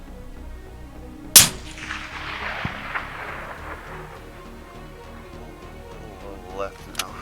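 A Ruger Precision Rifle fires a single long range shot, one sharp loud report with a long rolling echo, followed by a quieter metallic click and muffled voices nearby.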